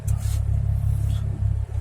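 A Honda Civic LX fitted with an aftermarket exhaust rumbles at close range, its engine note rising and dipping in short rev swells, low and throaty, with no talk over it.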